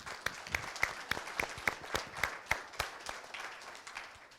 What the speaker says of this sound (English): You can clap for that because it's awesome.